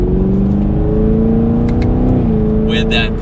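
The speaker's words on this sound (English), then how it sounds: "the V8 is the car enthusiast engine option to go with because it gives you that deep exhaust note" Chevrolet Camaro 2SS 1LE V8 exhaust revving, a deep loud rumbling note that climbs and then drops, with a person talking over it near the end.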